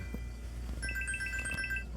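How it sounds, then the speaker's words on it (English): A phone rings on a fishing trip for salmon on Lake Ontario at Oak Orchard in Orleans County, giving a short repeated electronic trill at moderate level over steady boat and outdoor background noise. "me end that phone call real quick."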